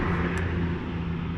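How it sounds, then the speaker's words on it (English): A car passes on a nearby road beside a roadside welcome sign at night, a steady, moderately loud engine and tire rumble sustained for a brief moment with no voices. "these cars are so freaking loud"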